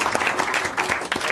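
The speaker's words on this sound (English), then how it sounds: "So let's give him a round of applause" An audience applauding an honoree at a council meeting, a short burst of dense clapping heard up close.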